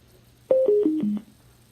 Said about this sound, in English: when it connects, it's like a dee-doo.